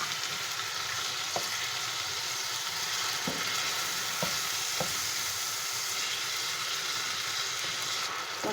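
Chicken stir-fries with chili sauce, soy sauce and vinegar, a loud steady sizzle broken by a few sharp utensil knocks against the pan, with no speech.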